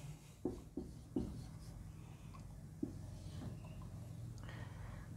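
Pen writing words on paper, quiet scratchy strokes with a few sharper taps near the start, faint and close over a low background hum, no talking.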